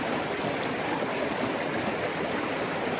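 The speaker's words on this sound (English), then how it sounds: "So once again, get everything to the front of your pan and just slowly wash it back." Water sloshing gravel in a gold pan as material is slowly washed back during panning, a steady rushing, gurgling wash that stays even and close throughout, with no voices.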